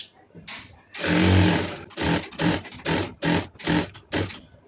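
A sewing machine runs a long seam of large stitches through fabric at home, starting with one sustained loud burst and then breaking into a series of short, evenly spaced runs, close up and with no voices.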